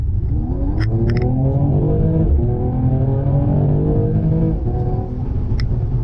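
A Mercedes E53 AMG floored at full throttle in sport plus mode, engine note climbing loud and steady through the gears with brief shift breaks, close and continuous with no talking.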